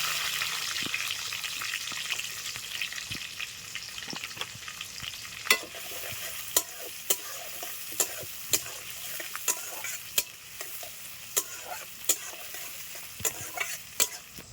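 Chopped onion frying in hot mustard oil with a bay leaf for a duck curry, a steady close sizzle broken by sharp spatula scrapes and clicks against the pan at a regular pace.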